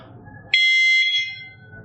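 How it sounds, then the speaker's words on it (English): A single sharp electronic beep from a dog training collar's beeper rings out clearly for under a second over a faint low background hum. "This will beep every 10 seconds while the dog is in motion"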